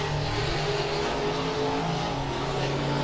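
Race cars roar around the oval on lap one at Monett Motor Speedway, a dense, continuous engine drone from the pack, loud and steady without a break.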